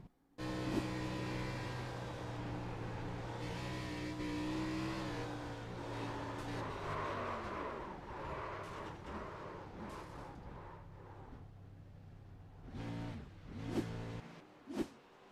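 Onboard the 19 car racing at Darlington Raceway in a video game, the engine drones loudly at a steady high pitch, then winds down through falling revs and settles into rough idling with a few sharp blips at the end.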